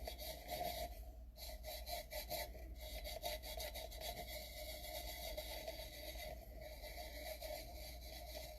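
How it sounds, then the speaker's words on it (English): Glitter is rubbed and ground into tape on a tumbler, giving a continuous scratchy, rasping rub with brief pauses, close and quiet, with no talking. "The little circle just sort of grinds the glitter into your tape so that you're sure you're getting a really good coverage on it."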